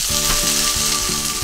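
Chicken tenderloin steaks dusted in flour sear in a hot pan, a loud, close, continuous sizzle with a steady crackle throughout and no talking.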